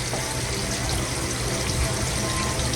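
A pot of dumplings, plantains and Irish potato simmers on a kitchen stove, giving a steady, dense wash of bubbling and hissing that runs continuously and fairly loud throughout.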